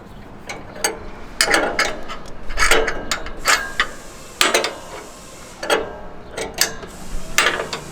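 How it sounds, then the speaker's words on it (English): A wrench turning an adjustment on a MacDon FD2 series header: a series of close, irregular ratcheting clicks and metallic rubs in short bursts. "we can either just turn this by a wrench to shorten it"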